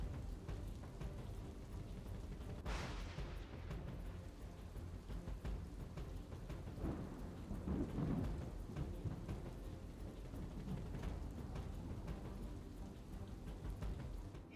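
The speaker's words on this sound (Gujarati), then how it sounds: "સોમનાથ જિલ્લામાં ધોધમાર વરસાદ છે" Torrential rain pours over Gir Somnath district near Una, a steady dense hiss with low rolling thunder rumbles mixed in, heard somewhat faint and distant for the whole stretch.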